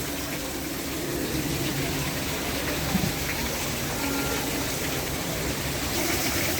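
Steady rushing water fills the scene, a continuous broadband roar from a nearby waterfall inside a rare-plant exhibition at Muang Thong, with faint voices and movement beneath it.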